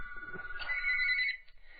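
An old telephone bell rings indoors in one steady burst lasting about a second, then cuts off, with faint room noise before and after and no talking.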